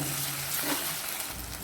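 Ginger garlic paste fries in a pan with onions, green chillies and curry leaves for chicken curry, a loud continuous sizzle with a brief stirring scrape.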